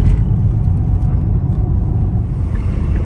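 A car drives along with a loud, steady low rumble and road noise heard from inside, continuous and unbroken for a few seconds.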